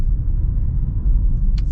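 Low, smooth rumble of a 2024 Hyundai Ioniq 5 electric car on the road, steady road and motor noise with a brief faint chirp near the end.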